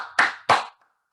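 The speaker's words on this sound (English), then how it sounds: "I'm going to give that man an applause" A single person claps hands in applause, two sharp close claps followed by a faint third tap, alone with no talk.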